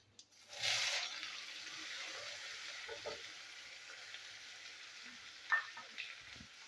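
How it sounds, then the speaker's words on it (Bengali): Chopped onion drops into hot oil with cumin and black pepper, bursting into a sudden loud sizzle that settles into a quieter steady frying hiss with a few stirring knocks. "তো তেলের মধ্যে আমি দিয়ে দেবো পেঁয়াজের কুচি"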